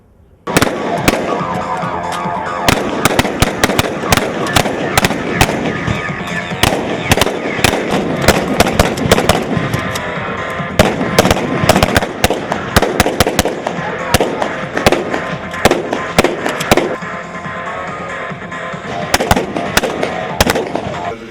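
Rapid, loud bursts of sharp blasts and pops crackle continuously, dense and irregular, explosive devices going off nearby during a police special battalion demonstration, with no pauses.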